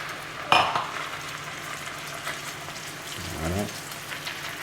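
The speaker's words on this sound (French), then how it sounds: "On va déglacer, on va poursuivre la cuisson même avec le vin blanc." Sweated small onions in a pan meet a splash of white wine, a sharp burst of sizzling that settles into a soft bubbling hiss with light scraping, close by and fairly quiet, without talking.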